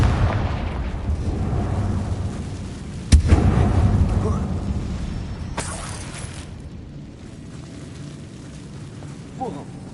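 A Confringo spell explosion in the Hogwarts Legacy video game inside a mine: one sharp booming burst followed by rumbling debris and a fading roar, loud and near, with brief magical whooshes after.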